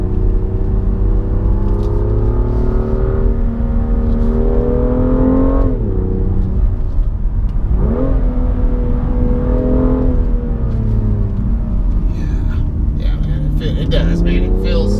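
A 2017 BMW M2 engine accelerates on the road, loud and close, its tone climbing and dropping through several gear changes while someone talks over it.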